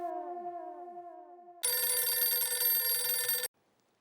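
A telephone rings with a bright, steady electronic tone in one sustained burst that starts partway through and cuts off abruptly, loud and close, with no talking over it.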